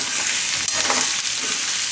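Thecha masala for aloo thecha is stirred into hot oil, a dense, steady sizzle and crackle of frying that fills the moment closely and evenly, with a brief stir-scrape midway.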